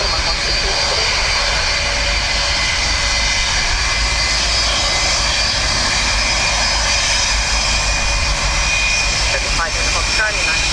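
A jet airliner rolls for takeoff on runway 10 right at Dublin Airport in windy, wet weather, its engines producing a loud, sustained broadband roar with no letup.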